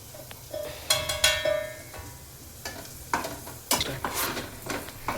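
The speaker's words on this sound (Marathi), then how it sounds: "व्यवस्थित मसाला वगैरे घालून आपल्याला परतून घ्यायचं आहे" Malvani masala and turmeric sautéing in a pan, with repeated metallic scrapes and clinks of a spoon against the metal over a soft, continuous sizzle.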